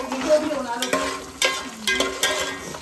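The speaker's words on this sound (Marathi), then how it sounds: "काजू टाकले, लसूण टाकले." Cashews and garlic frying in a pan: lively close sizzle with a utensil scraping and stirring in uneven strokes, several sharp scrapes standing out, no talking.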